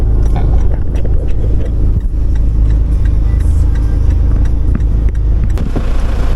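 A car engine runs with a steady, loud low rumble and road noise throughout, close and continuous with no voices.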